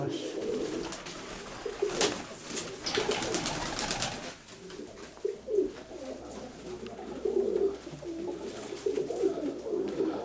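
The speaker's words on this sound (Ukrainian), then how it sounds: "Ну воно голуб сидить ще." Pigeons coo repeatedly nearby in soft, throaty calls, with faint voices in the background.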